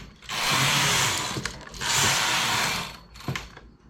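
A knitting machine carriage sweeps across rows in two long rasping whooshes, each ending in sharp clacks, followed by a shorter pass and a final click.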